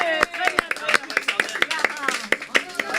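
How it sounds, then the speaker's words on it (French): Applause for a contestant's correct answer on a live French quiz show: a small group claps in loose, uneven bursts for about three seconds, with voices and cheering mixed in. "on l'applaudit"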